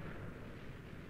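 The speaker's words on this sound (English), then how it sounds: "the explosion has nearly caught these ones as well" Continuous broadband rumble of an explosion in a survival multiplayer video game, a dense low roar that stays loud and steady for the whole second with no voices over it.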